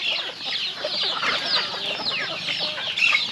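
Small chicks in a cage peep and cheep in a dense, overlapping chorus of high chirps, steady and fairly close, with no talking.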